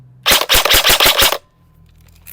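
An airsoft rifle fires a single full-auto burst of about six rapid, loud, close cracks. The burst lasts roughly one second and then gives way to near silence with faint room noise.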